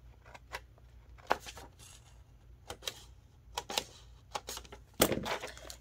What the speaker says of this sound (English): So what I'm going to do is hole punch this